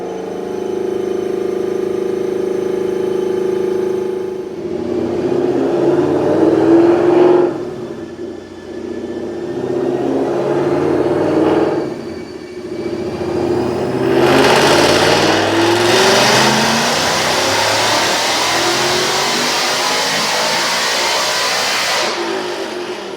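Supercharged 2018 Ford Mustang GT with a Whipple blower and manual transmission on a dyno, running E85, roars through loud full-throttle pulls with rising engine pitch, brief drops between gear runs, no talking.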